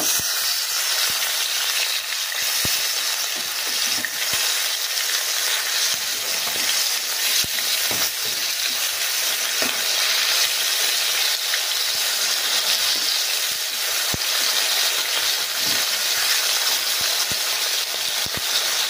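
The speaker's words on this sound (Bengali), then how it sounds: "তো বন্ধুরা, মাছে এক পিঠ খুব ভালোভাবে ভাজা হয়ে গেছে।" Steady, loud sizzling of catla fish frying in hot oil, a continuous crackling hiss with small pops throughout and no voices.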